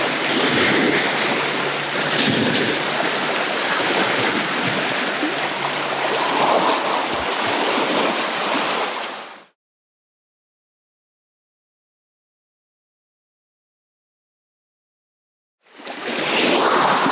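Water rushing and splashing along the bluffs of the Mississippi River, a loud, close, steady wash mixed with wind buffeting, which cuts to silence for several seconds before resuming.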